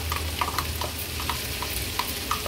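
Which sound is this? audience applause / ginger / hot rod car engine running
ginger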